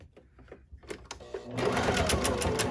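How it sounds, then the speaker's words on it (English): Close sewing machine reinforcing a seam on a hobo tote bag, a few slow clicks and thumps of the hand wheel, then a sustained rapid whirring stitch run. "I follow it again and I give it a back stitch just to really secure it"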